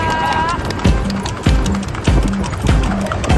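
Racing horses gallop in a Laguna versus Quezon match race, hooves thudding on the ground in a steady repeating rhythm while a voice narrates over the sound throughout.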